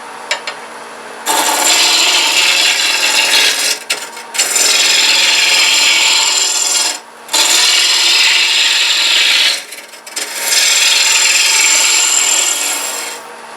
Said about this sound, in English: Now you can get a smooth cut with a spindle roughing gouge just by canting the angle a little bit.